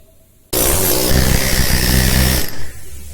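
A pneumatic hammer carving stone bursts on abruptly and rattles loudly for about two seconds before cutting off.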